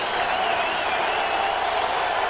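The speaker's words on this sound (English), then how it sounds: "The crowd has turned up the volume." A stadium crowd cheers loudly at a Colts home football game against the Falcons, a dense, sustained roar of voices and applause swelling evenly throughout, broad and enveloping with no single voice standing out.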